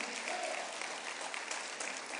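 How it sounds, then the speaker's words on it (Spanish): A church congregation claps together in a sustained, even round of applause during a Spanish-language sermon, dense and steady throughout. "si le va a dar un aplauso al Señor, déselo bueno"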